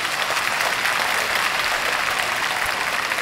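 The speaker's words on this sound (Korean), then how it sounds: "우리 박수 한번 치면 좋겠습니다" Audience applause at a film festival open talk with an animated film director, a dense, steady clapping from a large crowd that holds at even loudness throughout, with no voices over it.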